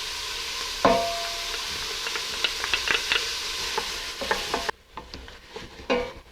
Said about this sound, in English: Mix well and cook the aromatic garnish for about 5 minutes on medium heat without browning the food.